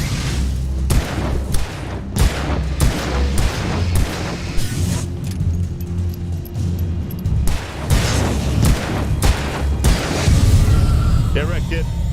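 Gunfire fills a fight in Alan Wake Remastered, with repeated loud, booming shots and bursts in an uneven rhythm. Someone talks over the shooting now and then.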